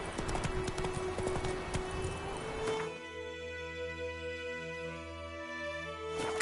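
Galloping horse hooves in The Witcher 3: Wild Hunt, a rapid rhythmic clip-clop under the game's music, fairly close and steady.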